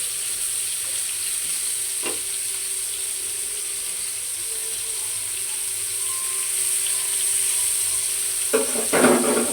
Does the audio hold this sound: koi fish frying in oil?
yes